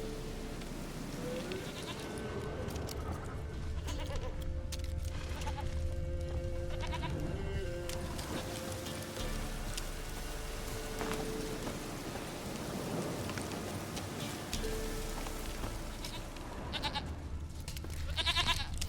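A goat bleats repeatedly in the video game The Witcher 3: Wild Hunt over a dense, steady wash of rain-like ambience and low rumbling, the calls coming and going throughout.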